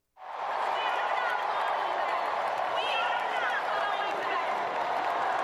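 A large rally crowd in Houston booing Kamala, a sustained, dense roar of jeering voices that starts abruptly and holds steady and loud throughout, with scattered shouts rising above the mass.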